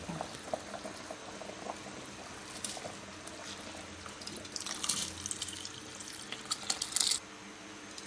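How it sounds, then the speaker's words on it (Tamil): Chicken biryani masala boils at a steady bubble in a pot for Karaikudi dum biryani, with continuous close burbling and a few louder splashy bursts toward the end, no voices. "இப்படி ஒரு அஞ்சு நிமிஷம் கொதிக்க விடுங்க"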